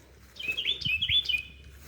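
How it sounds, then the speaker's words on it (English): A loud bird on rural church cemetery grounds gives a territorial call, a string of sharp, high whistled chirps rising and falling over about a second, close and clear above quiet outdoor background. "you can hear a really loud bird"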